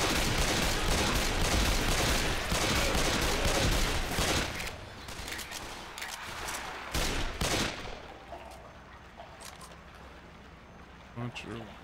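Gunfire in the zombie shooter Left 4 Dead 2 comes as loud, rapid bursts of shots and fusillades that later thin into scattered reports, while a voice talks over the fighting.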